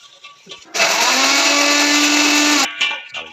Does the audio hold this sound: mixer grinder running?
yes